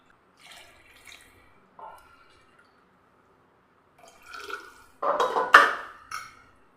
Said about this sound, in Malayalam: ഇനി ഞാനിതിലേക്ക് ഒരു ഒന്നര കപ്പ് വെള്ളം കൂടെ ഒഴിച്ചെടുക്കാം